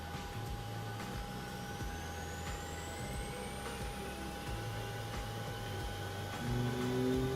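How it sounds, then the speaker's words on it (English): Engine 2 of a Boeing 737 MAX starts up in a flight simulator game, a faint, steady turbine whine with rising tones spooling up over a low rumble and swelling slightly louder near the end. "Starting engine 2. Start sounds on this airplane are amazing."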